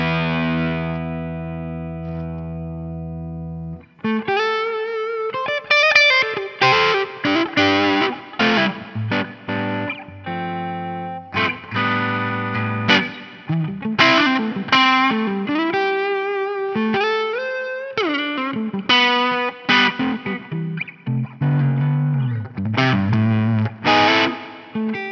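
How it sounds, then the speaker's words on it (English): Collings CL electric guitar on the neck pickup at low gain: a held chord fades out, then a stream of picked notes and short runs with effects and echo, close and clear with no talking. "I'm going to lower the gain and go on the neck pickup."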